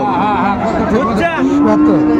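A Friesian or crossbred bull calf lets out a short, loud moo at a cattle market in Dinajpur, close by, with chatter from the crowd around it.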